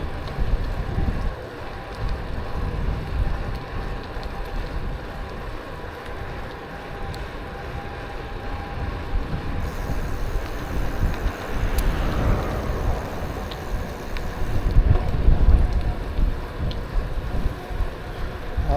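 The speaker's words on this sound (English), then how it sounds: "The wind's kind of helping us." Steady wind and water wash aboard a sailboat heading south, a continuous broadband rush with gusty swells and occasional microphone buffeting, no talk.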